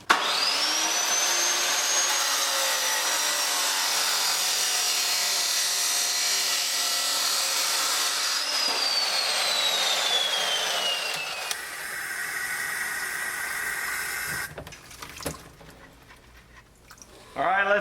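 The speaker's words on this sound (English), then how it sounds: "I'm going to take my socket on my chop saw and I'm going to cut part of it off" A chop saw cuts through a steel socket with a loud, sustained high-pitched grinding screech. The tone drops as the blade bites, then the motor winds down, leaving a few faint clanks and rustles before a brief burst returns.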